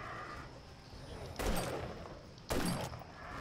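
Gunfire at zombies in the survival game 7 Days to Die, with two sharp, loud bursts of shots rising above a steady background of game noise, and no voices during the shots.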